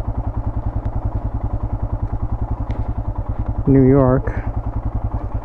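A Royal Enfield Himalayan motorcycle engine idles up close with a steady, even single-cylinder thump, while someone briefly speaks over it near the end.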